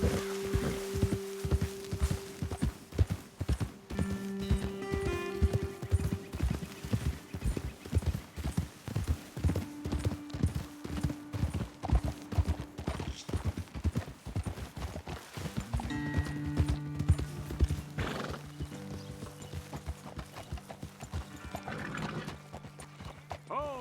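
Horses ridden in Red Dead Redemption 2, steady clip-clop of hooves on the ground for the whole stretch, close and even, with a sustained musical score playing underneath.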